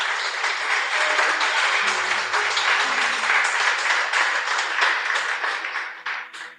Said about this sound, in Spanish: Dele ese aplauso y esa bendición al Señor.